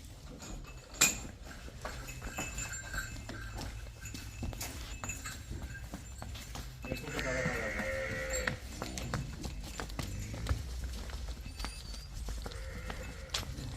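Buffaloes and cows on a farm, with quiet hoof shuffles, thumps and stirring around the animals, plus a brief bellow-like sound midway. The scene is faint, with no clear speech.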